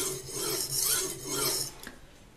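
A kitchen knife is drawn freehand across a whetstone at a steady angle, giving continuous rasping strokes that swell and fade in a slow rhythm, close and fairly loud with no talk.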